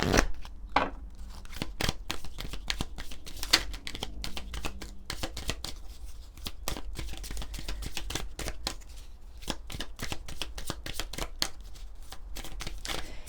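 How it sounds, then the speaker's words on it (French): Oracle cards are handled and shuffled in a quiet room, producing a steady run of soft, close flicks and slaps as cards riffle and one is drawn. "On va prendre une carte de l'oracle du pouvoir personnel."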